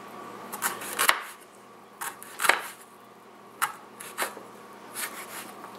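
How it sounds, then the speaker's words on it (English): Knife chopping chicory roots into small pieces on a cutting board, irregular sharp cuts and scraping strokes spaced about a second apart, close and fairly crisp with no talking. "You want to cut them in a uniform size because that will make everything roast more evenly."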